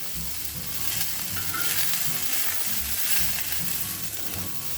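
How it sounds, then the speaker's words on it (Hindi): Soya chunks fry in hot oil on a high flame, giving a steady, close sizzle with occasional stirring scrapes and no voices. "तेल गर्म हो गया है तो सोया चंक्स को इसमें डाल देते हैं। हाई फ्लेम पे ही 2 मिनट के लिए हम इसको भून लेंगे।"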